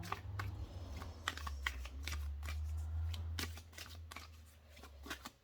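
Tarot cards being shuffled and drawn by hand for a weekend reading, a run of crisp riffling snaps and flicks close up over a steady low hum, with no voices.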